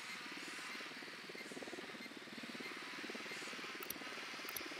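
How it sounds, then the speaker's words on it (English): A cartel supply helicopter in a video game, its rotor chopping in a fast, even pulse at moderate distance, with a couple of brief sharp clicks near the end and no speech. "Good eyes on the cartel supply chopper."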